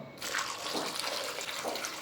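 After a brief quiet moment, water pours continuously into a vessel, a close, splashy stream lasting to the end.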